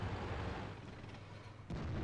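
Tank cannon fire in the World of Tanks game, a T-54 match: a low rumbling engine bed with a sharp boom near the end, with no one talking.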